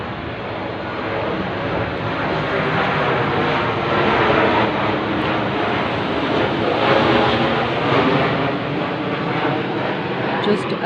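A steady, broad roar of aircraft passing overhead early in the morning, continuous and fairly loud for the whole stretch with slight swells, no voices.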